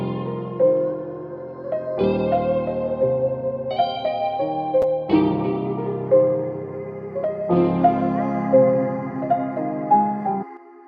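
Sustained chords from piano and guitar blend with a soft, airy vocal pad, changing every couple of seconds in a slow, ambient progression.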